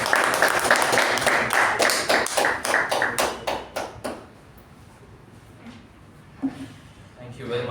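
Brisk clapping welcomes the club President Toastmaster at a Toastmasters meeting, loud and rapid for about four seconds before stopping abruptly. A quiet room follows, with a few soft knocks and a voice beginning to speak.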